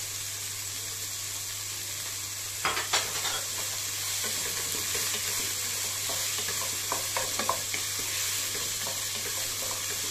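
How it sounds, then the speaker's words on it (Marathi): Boiled peas and carrots are stirred into onion poha frying in a pan, giving a continuous soft sizzle with a low steady hum beneath and a cluster of scraping stirs and clinks partway through, no speech. "आता हे बॉईल केलेले मटर आणि गाजर आपण याच्यात घालणार आहोत"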